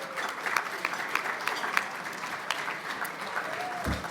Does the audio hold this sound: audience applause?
yes